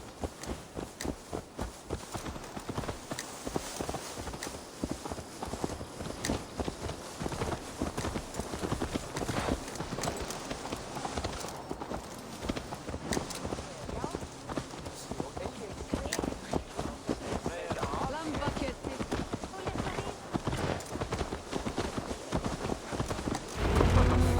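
Steady clip-clop of horse hooves walking at an even pace in the video game Assassin's Creed Valhalla, continuous and close, with voices and background sound layered over it.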